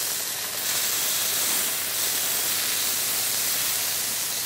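Rabbit loin sears in a hot pan with a steady, loud, even sizzle that holds throughout, with no voices over it.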